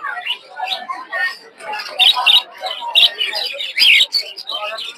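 Budgerigars at a village bird market chirp and twitter in quick, overlapping bursts, close and lively, with sharper squawks standing out every second or so.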